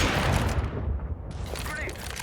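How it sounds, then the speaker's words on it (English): A flashbang grenade goes off in CS2 as a loud burst followed by a sustained hissing roar that fills the clip. Other game noise and a voice sit underneath. "Throw in the flashbang."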